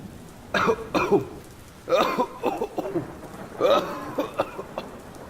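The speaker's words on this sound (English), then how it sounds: "how long have you had that cough?" Several rough, hacking coughs come in short clusters with brief pauses between them, close and fairly loud.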